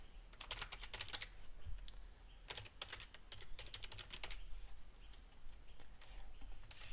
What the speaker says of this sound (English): Then we type the message.